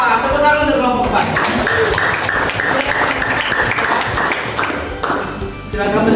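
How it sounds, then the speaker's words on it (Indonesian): A grade 10 class at SMA N 1 Sanga Desa high school applauds for group 4, loud dense clapping that fills the room throughout, with voices mixed in. "Tepuk tangan untuk kelompok 4."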